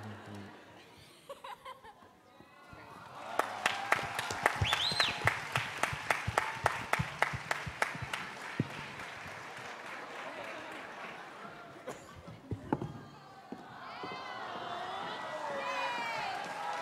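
Convention panel audience for Shadowhunters at NYCC, laughter and scattered cheering that swell into a burst of clapping, then fade into chatter and squeals from the crowd.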